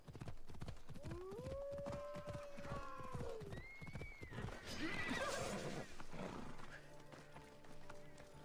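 A horse whinnies clearly over a steady clip-clop of hooves in Assassin's Creed Odyssey, with game-like ambience and a voice mixed in the background.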